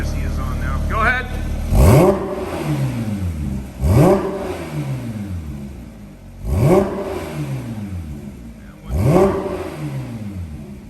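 Porsche 992 GT3 with a JCR valved exhaust revving in track mode, four sharp throttle blips spaced about two seconds apart, each rising fast and falling away, loud and close with a steady idle between them.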